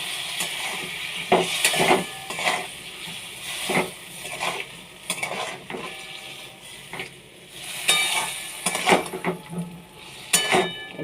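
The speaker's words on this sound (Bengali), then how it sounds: "জলটা দিয়ে ভালো করে নেড়ে নিলাম" Fish curry is stirred in a pan after water goes in, giving repeated scraping strokes of a spoon against the metal over a soft bubbling sizzle, close and irregular, with no voices.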